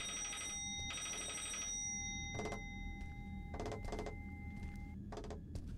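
A telephone rings in the horror game Inside The Walls, with several ringing bursts repeating at steady intervals over a low ambient rumble, fairly close and clear.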